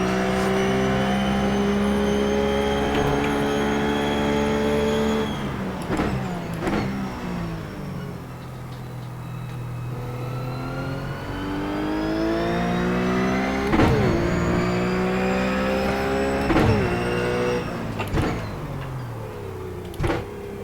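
A race car engine in a 24 Hours of Daytona sim race at night, on a warm-up lap taking turn one in third gear. A loud, steady engine drone rises and falls in pitch through repeated gear shifts, with no talk.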